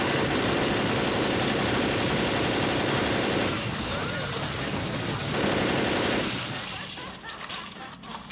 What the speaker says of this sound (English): I see him shooting it